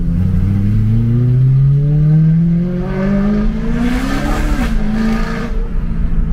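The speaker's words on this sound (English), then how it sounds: "So I'm gonna open up the valves and we're gonna go do a little send off. So listen to how loud this is." Loud, close engine roar from a rear-wheel-drive V8 car with its exhaust valves open, rising steadily in pitch as it revs up, then easing off and climbing again, with no talk over it.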